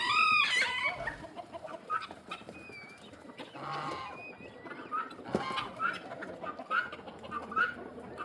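Chickens of assorted breeds and sizes on a farmyard morning, heard as scattered clucks and short calls, some near and some farther off, with other birds mixed into a busy outdoor background.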